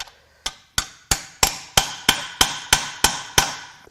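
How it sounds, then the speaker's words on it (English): Eleven sharp, evenly spaced hammer blows ring out on a stuck metal part of a Powerstroke diesel engine, each strike loud and close with a short metallic decay, growing slightly stronger after the first. "I have bigger hammers."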